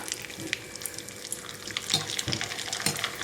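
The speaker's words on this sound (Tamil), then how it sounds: "இப்போ இதை எண்ணெயில் போட்டு பொரிச்சு பார்க்கலாம்" Murukku vadagam made from rice flour drops into hot oil and fries with a continuous bubbling crackle, close by, punctuated by sharper pops and stirring scrapes.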